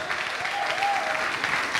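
A crowd claps at a boys' conference held at Jamaica College, a dense, even roar of applause with a brief voice or whistle rising partway through.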